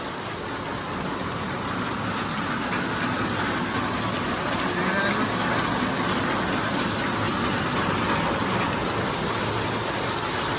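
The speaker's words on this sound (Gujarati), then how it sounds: "તમે જોઈ શકો છો મિત્રો વરસાદ કેવો પડી રહ્યો છે" Heavy rain falls over a farm field of cotton and castor plants, a dense, steady hiss of drops that fills the whole stretch evenly.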